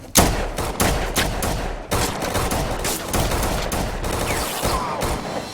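Bursts of movie gunfire in a catacomb shootout scene: rapid loud shots and volleys in quick succession with echoing cracks and dense reverberant clatter, playing without talk over it.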